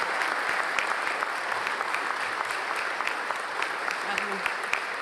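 Steady applause from a seated audience at a government announcement of a drone research facility in Mirabel, Quebec, a dense continuous clatter of many hands at even loudness, with a faint voice underneath.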